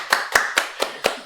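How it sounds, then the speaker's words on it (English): Five sharp hand claps in a steady, quick rhythm, close and clear with nothing else underneath. "Inhuman applause, even better."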